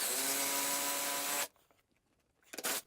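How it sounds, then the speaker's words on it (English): A power tool drives TV wall-mount bracket bolts into the wall, making a loud steady whine that cuts off, a short pause with faint handling, then another brief burst. "So we were able to start by shooting the bolts in the old holes."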